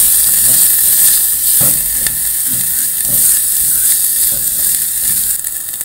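Onion sizzles steadily in a hot pan, a constant hiss with faint scraping taps from stirring.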